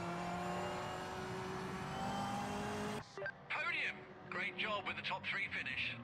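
A Corvette race car at Spa in Project Motor Racing holds a loud, steady engine note that climbs in pitch for a few seconds, then the sound cuts away to a person talking.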